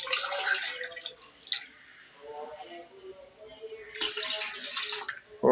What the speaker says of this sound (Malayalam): ഇനി 1 ഗ്ലാസ് വെള്ളം കൂടെ ഒഴിക്കാനുണ്ട്.